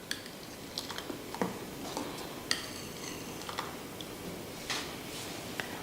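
Coconut milk being stirred into a cooking pot, soft sloshing with light spoon clinks and taps against the pot at an irregular pace, quiet and close, with no talking.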